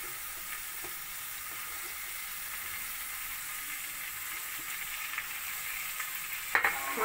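Capsicum, green chili, cabbage and beans stir-frying in a pan, a faint steady sizzle with a few scraping stirs near the end, no talk.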